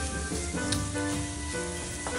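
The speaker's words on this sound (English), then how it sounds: "Stir fry finely chopped onion with butter." Finely chopped onion stir-fried in butter for a sauce, a continuous close sizzle with a faint scrape of stirring partway through.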